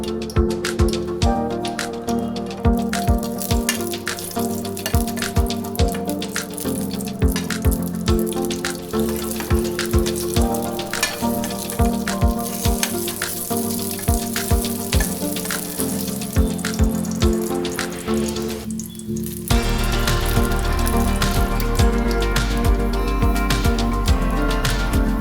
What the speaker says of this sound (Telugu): ఆయిల్ వేడైన తర్వాత పండు మిరపకాయలు ఫ్రై చేసుకోవాలి